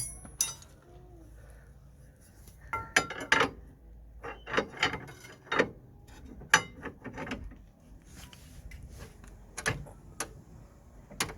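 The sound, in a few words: driving in ball joint bolt, Nissan Micra suspension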